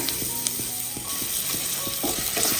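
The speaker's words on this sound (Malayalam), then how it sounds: "എണ്ണ ഒന്ന് ചൂടാതിന് ശേഷം 10 ചെറിയ ഉള്ളി ചെറുതായിട്ട് കട്ട് ചെയ്ത് ചേർത്ത് കൊടുക്കാം" Chopped shallots fry in hot coconut oil, a steady close sizzle broken by sharp spatula scrapes and clicks against the pan at irregular intervals.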